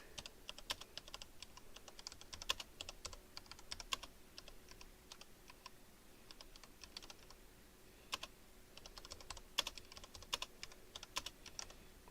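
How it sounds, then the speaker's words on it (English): Rapid typing on a computer keyboard placed right beside a microphone, with steady clusters of close, crisp key clacks and short pauses, with no talking. "I type bad with my mic in my face. My keyboard's right there."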